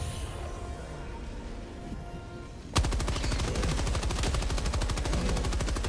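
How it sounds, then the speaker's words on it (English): A machine gun in the video game Helldivers 2 opens up partway through, firing a loud, rapid, unbroken stream of shots that follows a quieter stretch of muffled game noise. "I got my machine gun."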